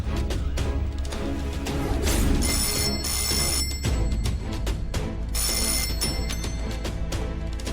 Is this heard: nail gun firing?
no